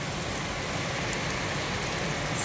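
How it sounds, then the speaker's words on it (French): Dense, loud downpour drums steadily on nearby surfaces during a summer storm, an unbroken wash of rain noise with no talking. "Il pleut, c'est hallucinant."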